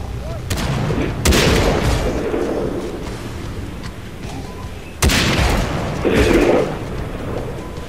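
An RPG rocket explosion and gunfire from the video game Far Cry 3 come as two loud booming blasts with rolling rumble and scattered shots, with background game ambience.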